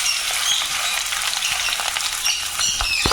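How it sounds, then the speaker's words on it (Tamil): Onions and green chillies fry in oil in a pan with a loud, continuous sizzle and crackle, along with a little stirring scrape near the end. "நல்லா வந்து ஆனியன் நல்லா ப்ரௌன் கலர் ஆற வரையும் நல்லா ஃப்ரை பண்ணிக்கோங்க"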